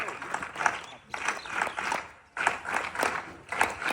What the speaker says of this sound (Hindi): तालियों में कमी नहीं रखें।